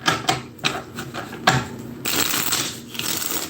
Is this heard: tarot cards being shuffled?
yes